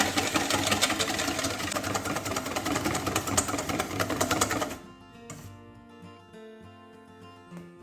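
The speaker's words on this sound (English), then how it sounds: "I'm just going to whisk up a little bit more cream just to go on top of the mousse." Electric mixer whisking cream for a chocolate mousse topping, a steady loud mechanical whir running continuously for about five seconds, then cutting off abruptly, leaving faint clinks and quiet kitchen sounds.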